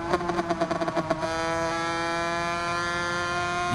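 A Suzuki RGV 250 racing motorcycle engine in the video game Ride 2, first a rapid stuttering burst of revs, then a steady high buzzing drone as the bike holds speed, loud and close.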